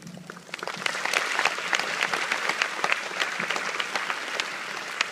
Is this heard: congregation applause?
yes